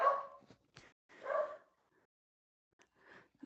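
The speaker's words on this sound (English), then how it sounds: "The dogs are going crazy today." A beagle mix dog barks and yips several times at moderate distance, short sharp bursts separated by pauses, with a few quieter whimpering yelps toward the end.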